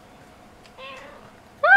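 A pet cat meows twice indoors, first a soft, short mew and then a louder, clearer meow close by, over a quiet room background.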